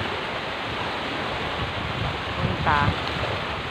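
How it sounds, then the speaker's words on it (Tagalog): Large ocean waves churn during a tropical depression, a continuous loud wash of surf mixed with strong wind buffeting the microphone, and a voice speaks briefly near the end. "Ganyan ang kalaki ang alon."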